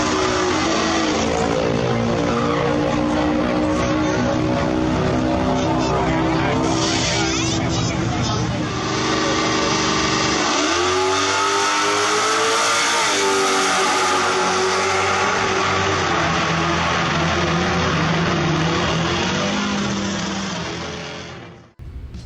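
A Dodge Scat Pack with 1.5 degrees of added timing runs down a drag strip, engine roaring loud and steady as it accelerates, with shifts where the pitch drops and climbs again, and faint crowd noise beneath.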